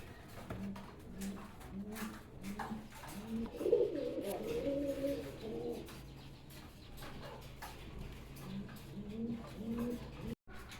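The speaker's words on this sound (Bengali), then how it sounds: "দর্শক এখানে একজোড়া ঘিয়াচুল্লি কবুতর দেখতে পাচ্ছেন" A pair of domestic pigeons offered for sale coo in soft, low, rhythmic phrases that repeat steadily through the clip. They sound fairly close, with faint background noise.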